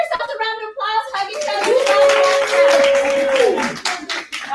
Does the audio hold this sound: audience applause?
yes